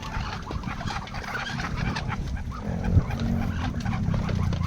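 Black-fleshed backyard chickens in a rural farmyard cluck steadily as a flock, a dense, continuous murmur of calls with one brief louder squawk near the middle.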